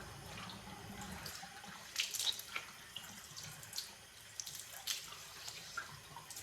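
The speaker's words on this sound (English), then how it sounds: "Then we're going to rinse it off with lukewarm water." Water runs softly from a tap into a sink while a face is rinsed with lukewarm water, with a few brief splashes and drips over a steady low trickle, close by and with no talking.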